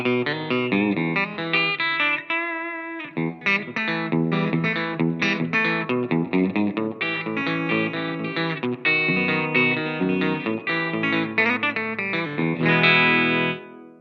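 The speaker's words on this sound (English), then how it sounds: "the next amp is the Black Duo, which is kind of like a Fender Twin Reverb." An electric guitar played through the Positive Grid Spark practice amp on its Black Duo model, a Fender Twin Reverb–style tone, rings out in a continuous run of chords and picked notes with chorus and reverb shimmer, alone and fairly loud.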